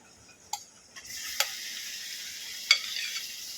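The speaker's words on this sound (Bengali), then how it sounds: "আলুটাকে ভালো করে একটু কষে নিয়েছি এবারে ম্যারিনেট করে ঢাকা মাংসটা দিয়ে দেবো" Potatoes and marinated chicken frying together in a pan: a faint background hiss rises into a steady sizzle partway through, marked by a few quick clicks and taps of a utensil, with no talking.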